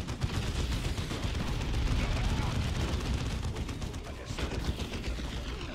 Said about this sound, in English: Shotgun blast to the face.